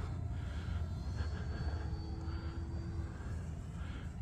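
An FMS Zero 1400mm RC model airplane at full throttle on takeoff outdoors, a steady distant engine drone with a faint whine, no voices.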